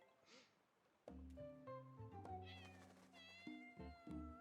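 Meows from a cat in the cosy life-simulation game Heartopia come in a quick series of short, clear, fairly close cries, with faint game ambience underneath.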